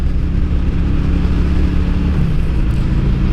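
A Honda Shadow 750cc motorcycle engine rumbles loud and close with a deep steady drone, the low throb shifting slightly as the bike pulls away, no talking.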